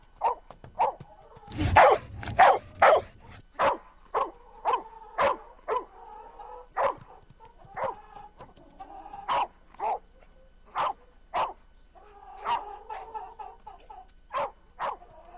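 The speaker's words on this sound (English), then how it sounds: "The guard dog looks and sounds threatening, but doesn't come running" A guard dog on a farm barks repeatedly at a prowling bobcat, a steady series of sharp, moderately close barks spaced about a second apart, with a brief louder flurry early on and a few whimpering yips between.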